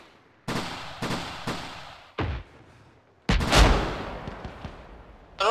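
Gunfire in ARMA 3: several separate sharp shots crack at uneven intervals, then a louder, booming report with a lingering tail, and a final shot at the very end.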